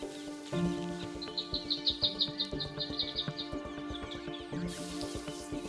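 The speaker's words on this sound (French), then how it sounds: "Ça, c'est un oiseau qu'on trouve dans la région." Wild bird calling outdoors in a region with mangroves, a quick series of bright, repeated chirping notes over a busy, layered natural background with other faint calls.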